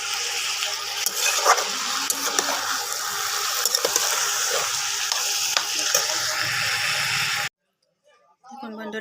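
Cabbage frying in a pan with a little sugar, stirred so it sizzles steadily with scraping spoon strokes for about seven seconds before stopping abruptly; a brief faint rustle follows.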